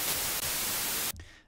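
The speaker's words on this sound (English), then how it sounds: "Sytrus is now generating noise." White noise from a Sytrus synthesizer plugin, a steady, loud, full-band hiss that cuts off abruptly near the end and leaves a brief fading tail.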